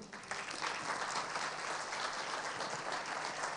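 Loud, sustained applause from a church congregation fills the space, a dense steady clatter of clapping hands that holds for several seconds with no voices on top.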